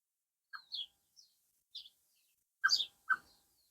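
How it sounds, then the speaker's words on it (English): A blackbird in a Welsh garden gives a handful of short, bright chirps in irregular bursts, faint and isolated against otherwise quiet surroundings. "when they're as cheeky as this blackbird and comes asking for food, I do give it to them"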